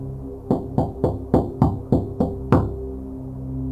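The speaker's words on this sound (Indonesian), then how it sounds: "pintu dapur diketuk dengan keras, lebih keras dari sebelumnya" A kitchen door is knocked on hard, seven heavy evenly spaced blows in a steady rhythm with the last one loudest, close and alone over a low hum.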